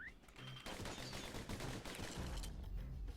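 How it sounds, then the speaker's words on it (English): Rapid pistol gunfire in the video game Bastion, a quick rattling string of shots, fairly faint and set against a busy game soundscape. "Those pistols could spit out rounds just as quick as you could pull the trigger"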